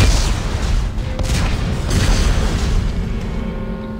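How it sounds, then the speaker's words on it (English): Explosives detonate in the video game Dead Space 3, a loud, rumbling boom that rolls on with heavy low-end debris and crackle for several seconds. "Computer, arm, explosives. Where are you at? And... detonate."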